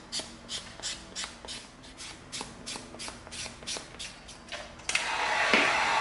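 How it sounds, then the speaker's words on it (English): A 220-grit sanding stick is rubbed in quick rhythmic strokes over the edge of an EVA foam piece, a close scratchy swishing repeated about a dozen times, then a louder sustained rough scrubbing at the end. "we're gonna come in with our 220 sanding stick."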